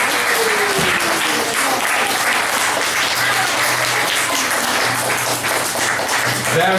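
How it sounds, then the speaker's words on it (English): An audience applauding after a talk in Panama, a full steady round of clapping close by for nearly seven seconds, with faint voices and a low tone underneath. "I want everyone to give a good applause for an excellent job of translation."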